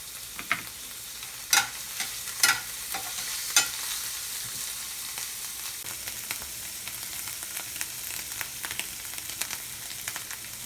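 Garlic and chilies stir-fry in olive oil in a pan, a soft continuous sizzle broken by a few sharp scrapes and clacks of stirring, close and without talk.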